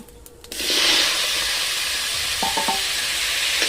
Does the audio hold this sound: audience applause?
no